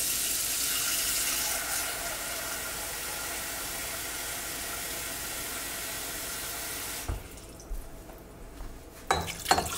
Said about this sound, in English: we are adding water to the bones here.